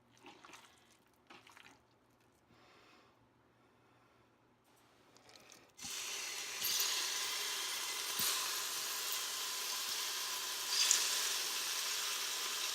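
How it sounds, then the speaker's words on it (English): Chicken pieces cut bite-sized hit hot olive oil in a pan, breaking into a loud, steady sizzle after a few quiet handling sounds, with occasional sharper pops over the continuous hiss. "You can hear it start to sizzle a little bit"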